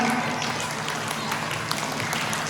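Children at a mosque Quran school (TPA) session clap together in a dense, steady patter of overlapping claps, with voices mixed in throughout.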